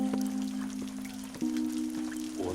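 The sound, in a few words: rain falling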